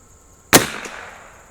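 A single sharp shot from an Anschutz 54 match rifle fired at a target outdoors, loud and close, with a brief decaying echo and a faint tone in the background.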